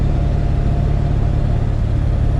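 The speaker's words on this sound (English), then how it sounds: "It idles really nice and smooth." A Ford 7.3 OBS diesel truck engine idles close by with a loud, steady low rumble and an even, regular knock-like pulse, and no voices are heard.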